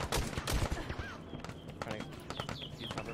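Gunfire in the online shooter Contractors Showdown: a burst of rapid shots, loud and close at the start, followed by scattered sharper reports through the rest of the fight, with game ambience underneath.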